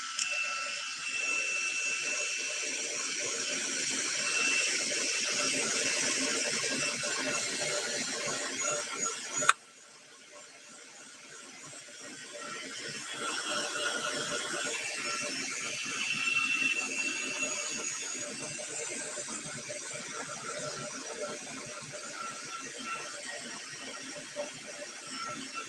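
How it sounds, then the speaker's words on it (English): A heat gun blows on embossing powder with a steady, airy whoosh that drops out briefly partway through, then resumes and continues at a moderate level. "And let's get our gun, our heat gun."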